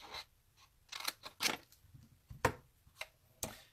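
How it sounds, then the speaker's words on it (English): Scissors snip through cardstock for a paper Easter basket, cutting up to a score mark made on an envelope punch board; a few separate, close crisp cuts with pauses between them. "you just take snips and you cut up to there, up to that first score mark"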